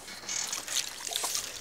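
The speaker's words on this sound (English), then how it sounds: "So here is my bucket of ice" Ice and salt water sloshing and trickling in a bucket, a soft continuous watery splashing with no voices.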